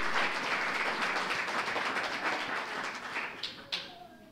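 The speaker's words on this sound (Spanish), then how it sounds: "Denle un fuerte aplauso." Sustained applause from a church congregation fills the space as a dense, even roar of clapping, tapering off toward the end with a couple of last isolated claps.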